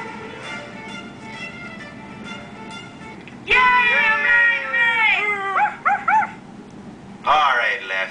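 A dog lets out loud, close yips and rising, wavering whimpers and howl-like whines in several bursts over a low background murmur.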